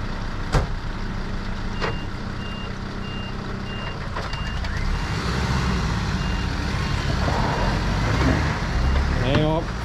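A truck reverses near the Brisbane River with a steady, repeating reversing beeper sounding throughout, over engine rumble and traffic noise; a quiet squeal of air brakes comes near the end.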